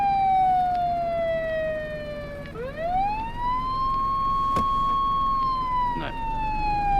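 Police car siren in the video game DayZ, a loud continuous wail sweeping slowly down, dipping, then rising and holding before falling again, with engine and road rumble underneath throughout.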